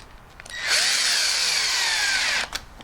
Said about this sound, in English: fix it in with a couple of screws